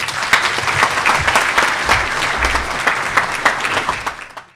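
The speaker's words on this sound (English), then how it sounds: "You were applauding the film." An audience at a charity fundraising dinner in Slough applauds a film with sustained, dense clapping that holds steady and then fades out at the end, with no talk over it.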